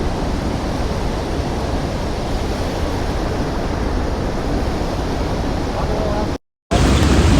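Rushing water pouring out through two open gates of the Shirur dam, a loud, dense, constant roar close by that cuts out briefly near the end before resuming.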